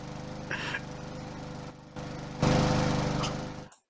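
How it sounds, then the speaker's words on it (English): Lawn mower running close to a house, a steady engine drone that swells louder as the mower comes nearer, then cuts off abruptly at the end. "At least she's moving the lawnmower."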